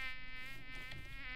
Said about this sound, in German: Naja, Mücken.